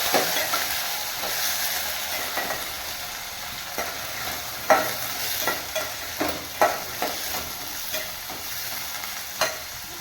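Carrots for carrot gravy sauté in a hot pan with a steady sizzle, while a spoon scrapes and stirs in sharp, irregular strokes close by. No one speaks.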